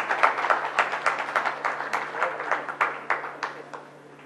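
Applause for an honoured guest at a formal conclave ceremony, a crowd clapping steadily in a dense, rhythmic patter that holds for several seconds before thinning out at the end, with no talk over it.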